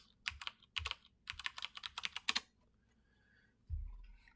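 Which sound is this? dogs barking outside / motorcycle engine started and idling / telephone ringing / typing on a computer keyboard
typing on a computer keyboard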